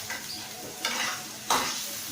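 Onions fry in a pan over a low flame, a soft continuous sizzle with a couple of brief louder stirring scrapes, close by and without speech.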